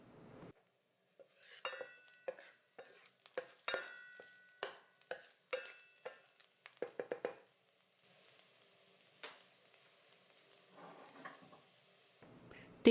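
Minced garlic stir-fried in a tablespoon of cooking oil in a hot wok, with a run of sharp, close scraping stir strokes over a soft sizzle that then settles into a steadier, quieter frying hiss.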